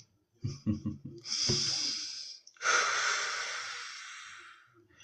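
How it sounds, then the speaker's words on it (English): A person takes deep breaths, several short sniffing intakes followed by a long, strong, airy inhale and a long exhale, close and loud with no talking. "Let's take a few deep breaths."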